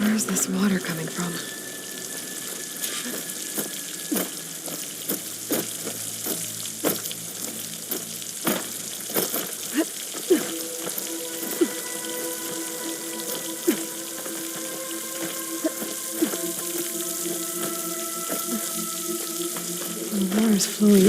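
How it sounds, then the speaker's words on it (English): Water flows steadily into a rock wall near a waterfall in Horizon Forbidden West, a continuous rushing wash lasting throughout, with faint tones and small clicks layered over it. "The water's flowing into the wall."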